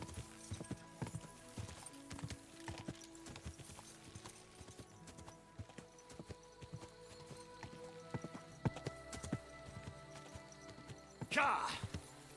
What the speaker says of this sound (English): Go! Go, Roach, go.